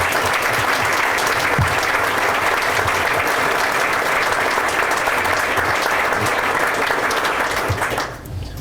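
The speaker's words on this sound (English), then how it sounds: "Let's give you a round of applause" A large outdoor audience at a nature school dedication applauds in a dense, steady roar of clapping that holds for several seconds before tapering off near the end.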